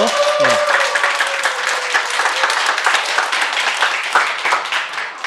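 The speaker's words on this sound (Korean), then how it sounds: "우리 박종문 순장님께 사랑과 감사의 박수로." A church retreat gathering breaks into sustained applause for a leader, many hands clapping steadily and fairly near, with a voice briefly heard at the start.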